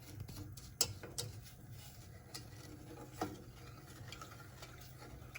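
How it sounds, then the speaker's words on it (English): Milk being stirred constantly in a pot for a sweet cream pie filling, a quiet steady scraping with a few faint spoon clicks against the pot's sides, low under a soft background hum. "I'm just sort of constant stirring, stirry stir, movey move, get it off the corners"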